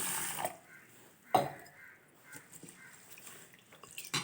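Urad dal being rinsed by hand in water for kantharappam batter, soft faint splashing and swishing with a couple of sharper sloshes, quiet and close.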